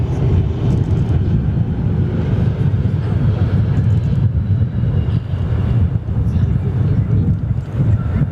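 A heavy airliner on approach to runway 03 at Perth Airport gives a loud, continuous low roar that holds steady throughout, with gusty wind buffeting the microphone.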